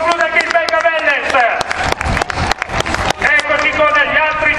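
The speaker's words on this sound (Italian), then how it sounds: "L'applauso per tutti gli atleti" Spectators clap and cheer for cyclists arriving at a road race stage finish in Tuscany, a busy mix of applause and crowd noise under an excited commentator's voice.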